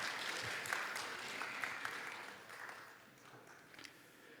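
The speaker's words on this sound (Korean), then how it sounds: "서로를 위해서 사랑과 축복의 박수 보내주시기 바랍니다" A church congregation at a Wednesday service applauds, a soft, distant wash of clapping that holds steady for a few seconds and then thins out.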